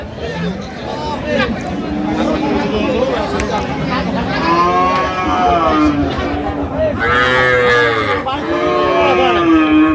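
At a busy cattle market, a cow moos repeatedly in long, loud calls over a constant babble of people talking nearby.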